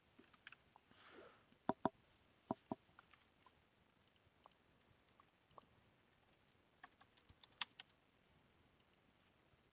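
A computer keyboard being tapped in sparse, irregular clicks and short clusters, faint and near, set in a quiet room without speech.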